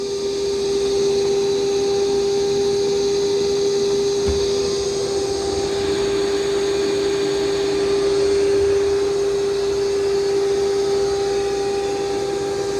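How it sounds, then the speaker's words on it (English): An iRobot Roomba Plus 505 Combo robot vacuum and mop runs on carpet in vacuum-and-mop mode, giving a steady, loud motor whine with a strong constant tone and brush hiss that continues unbroken throughout, with no talking. "Because I've got it to where it's going to vacuum and mop at the same time."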